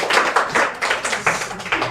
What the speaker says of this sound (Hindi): सब ताली बजाइए जी